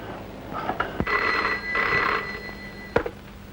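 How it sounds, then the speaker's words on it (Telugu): A telephone rings indoors in short electronic bursts, with a couple of sharp clicks between the rings and no voices. "పద్మకు ఫోన్ చేస్తాను నువ్వు ఇక్కడికి రమ్మను"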